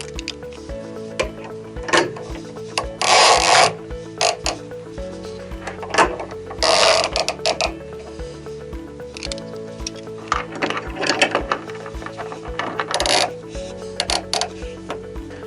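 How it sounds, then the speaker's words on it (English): Ratchet straps tightened snug on a Santa Fe large hang kit, with repeated close bursts of rasping, clicking strap ratcheting over a low steady hum, no talking. "as we attach our ratchet straps on, I'm just going to pull it so it's snug"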